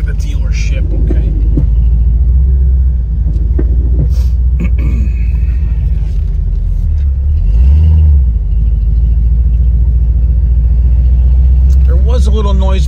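A 1989 Ford Mustang GT drives and turns around, giving a steady, close low engine rumble inside the car with a slight swell partway through. A person talks over it.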